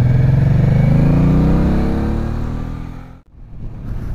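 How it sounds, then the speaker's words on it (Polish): A motorcycle roars loudly past at close range, its engine note sliding downward as it draws away, then fading into lighter road noise. "ale jakoś tak bokiem szedł ten motocykl"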